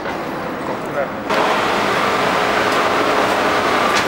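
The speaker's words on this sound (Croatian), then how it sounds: "ušli smo upravo u tramvaj" Inside a moving city tram, a steady loud rumble and hiss of the car in motion fill the space after a sudden jump in level.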